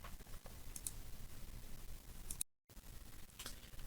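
Faint mouse clicks while working in Google Web Designer, a few light isolated ticks spread across a quiet background with a brief dropout, no speech.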